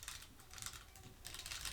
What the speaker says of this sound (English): I'm gonna go ahead and type in here.